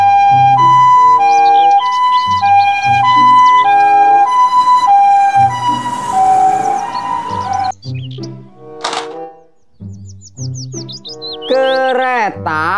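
A toy ambulance siren wails in a steady electronic two-tone pattern, loud and close, with chirpy electronic tones and warbles toward the end.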